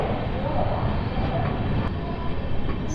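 The Charlapalli Superfast Express 12603 sits at MGR Chennai Central station with a steady low rumble of train and platform noise running throughout, faint murmuring voices mixed in.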